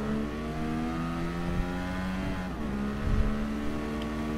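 A McLaren race car engine drones steadily in the racing game GT Sport, a sustained harmonic whine with slight pitch shifts and a couple of soft thumps, heard at moderate volume with no talking.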